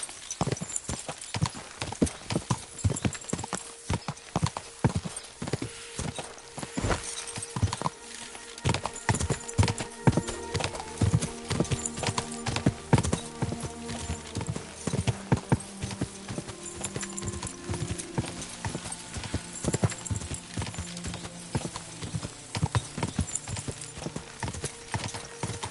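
Horse hooves in Kingdom Come: Deliverance II clatter in a fast, uneven galloping rhythm, close and loud, with occasional heavier thuds and a brief whinny.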